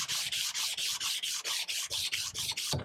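A steel knife blade hand-sanded with 120 grit sandpaper, about a dozen even back-and-forth strokes in quick steady rhythm, close and scratchy, with no voices.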